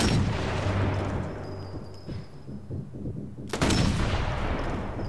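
Shots in the video game Sniper Elite 4, heavy booming gunfire with a rumbling tail, then a quick run of smaller rhythmic impacts, followed by another loud report near the end.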